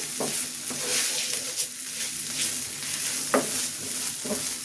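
Ginger paste fries in hot oil in a pan for a koi fish bhuna. A loud, steady sizzle is heard up close, with occasional scraping stir strokes against the pan and no talking.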